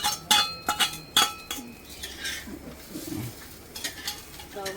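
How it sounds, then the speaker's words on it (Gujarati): Onions tossed into a pan while cooking spicy usal: a few sharp metallic clinks and clatters of utensil against pan up front, then softer rustling and faint sizzling. "અંદર જ કાંદા નાખી લેશું. કાંદા નાખી લઈએ."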